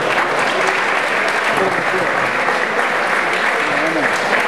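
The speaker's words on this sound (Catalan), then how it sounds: "un fort aplaudiment per aquesta primera generació de tècnics superiors" A hall crowd at a graduation ceremony claps steadily and loudly the whole time, a dense, even wash of applause with no voices heard.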